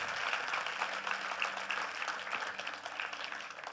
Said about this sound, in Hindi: आज तक के लिए भी तालियां.